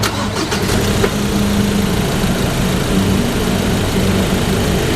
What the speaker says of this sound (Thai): เครื่องฟิตฟิตไม่รั่วไม่ซึมนะคะสตาร์ทติดง่ายเดี๋ยวเราไปฟังเสียงกันเลย